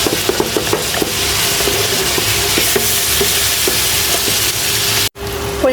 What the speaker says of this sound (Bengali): মাংস রান্না করার জন্য প্রথমে আমি পেঁয়াজ তেজপাতা দারচিনি লবঙ্গ একটু হালকা ভাজা নিতেছি।